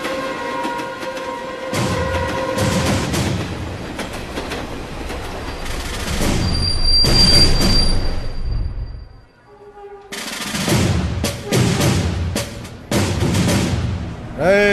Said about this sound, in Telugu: మన తర్వాత వచ్చిన ట్రైన్ కూడా వెళ్ళిపోతుంది.